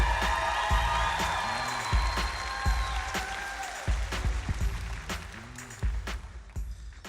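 A seated audience applauds the Teachers of the Year at the 2019 Rockwall ISD convocation, a steady broadband wash of clapping that holds for several seconds, with a sustained tonal layer underneath and occasional sharper claps standing out.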